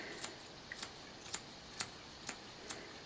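Quiet, crisp scissor snips cutting a hair fringe repeat at a steady pace, about seven short cuts spaced roughly half a second apart, close by with no talking.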